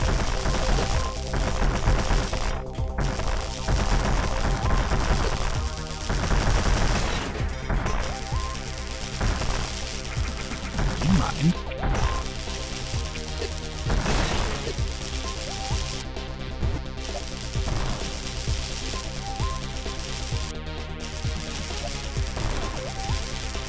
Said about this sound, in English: I want to hit the core with the missiles